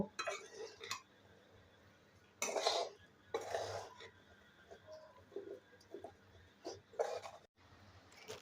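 Cooled minced filling is stirred with a spoonful of tomato sauce in a pan for egg devils, giving quiet, scattered clinks and scrapes with brief louder bursts and pauses between.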